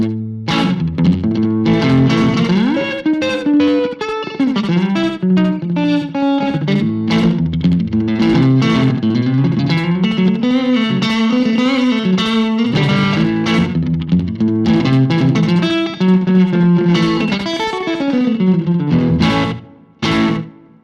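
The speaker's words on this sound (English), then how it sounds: "With one repeat to give me a nice little slap back for when we do this sort of stuff." An electric guitar played through a Boss pedal set to a single-repeat slapback delay of about 100 milliseconds gives a country twang. The playing is loud and continuous for about twenty seconds, then cuts off briefly near the end.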